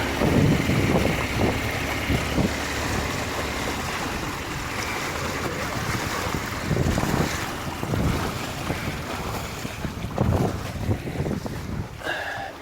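Sailboat SV Pegasus under sail on a beam reach with the motor shut off: a continuous loud rush of wind buffeting the microphone over the wash of waves against the hull, with no talking.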